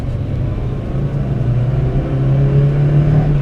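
A Geo Tracker's engine revs steadily as it accelerates onto a freeway, shifted short of redline, giving a loud, continuous low-pitched rumble that holds a rising steady drone throughout without any talking.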